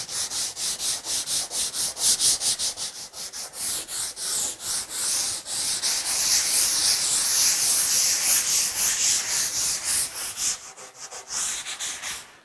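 Hand sanding a wooden belly board with sandpaper, rapid rhythmic back-and-forth scratchy strokes close up, steady for most of the time and then slowing into a few separate rubs at the end.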